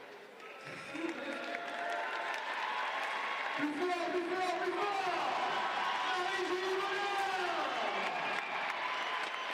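Crowd at an indoor pole vault meet in Bordeaux applauds a hometown favorite, a broad wash of clapping and cheering that swells and holds under a commentator's voice.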